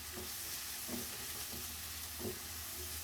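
Chicken filling stirred in a hot frying pan, a steady sizzle broken by a few soft scraping strokes at a slow, uneven rhythm, close and moderately loud with no talking.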